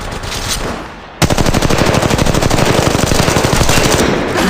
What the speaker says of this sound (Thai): คนยิงที่ฉัน